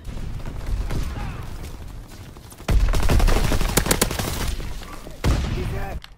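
Sustained bursts of MG15 machine gun fire in a video game, loud and rapid, with a gap of quieter background noise between the bursts and a final burst near the end.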